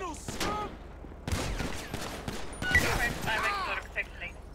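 Shotgun fire in GTA 5 with the LSPDFR police mod, several sharp blasts and scattered gunfire amid chaotic game sound, with voices talking and shouting over the shots.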